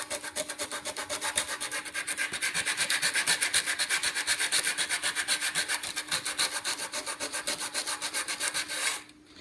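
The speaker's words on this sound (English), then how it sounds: "continue to kind of work all these pieces here with some of the 80 grit" Continuous rhythmic rasping of an 80-grit sanding sponge scrubbing wooden corner pieces, fast back-and-forth strokes close by, stopping abruptly near the end.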